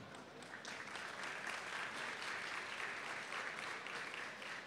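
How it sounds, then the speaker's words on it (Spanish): An audience applauds at a talk about making money online: soft, distant, continuous clapping from a crowd that holds steady for several seconds before easing slightly. "Le da mucha pena, pero un fuerte aplauso para Mónica."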